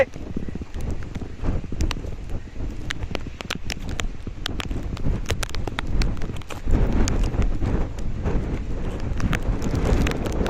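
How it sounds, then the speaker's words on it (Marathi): Strong wind sweeps over a misty monsoon hill fort, a continuous rushing buffet against the microphone with scattered clicks and knocks, growing louder and denser in the second half. "जोरदार वारा सुटलेला आहे"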